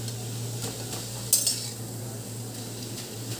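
Water spinach is stirred in a frying pan while cooking dry, with a soft sizzle under scraping and a sharp utensil clink against the pan.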